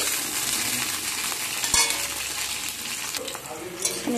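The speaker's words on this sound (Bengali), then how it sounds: "সিমগুলোকেও ভেজে নেব।" Flat beans (shim) fry in hot oil in a wok, a loud continuous dense sizzle with an occasional clatter of a spatula against the pan.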